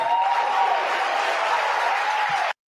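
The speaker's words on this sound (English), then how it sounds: "do you hear the eruption of applause coming from Democrats to Tulsi Gabbard?" Audience applause erupting for Tulsi Gabbard at a Democratic presidential debate, a dense sustained wash of clapping and crowd noise filling the whole stretch before cutting off abruptly.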